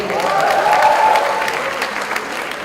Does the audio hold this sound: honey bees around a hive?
no